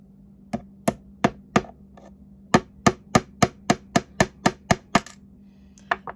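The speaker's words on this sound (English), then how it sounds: "I'm gonna use pliers to hold the nail and then tap it into place with my" Hammer taps on a nail held with pliers and driven into wood, about a dozen sharp, evenly spaced strikes at close range with no talking.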